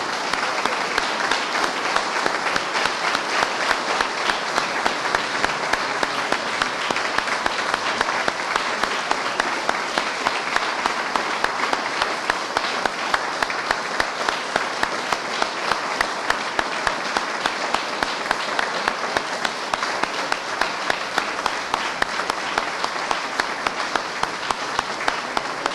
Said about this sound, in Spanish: les invito a ponernos de pie y con un fuerte aplauso darles las gracias a don Humberto Morales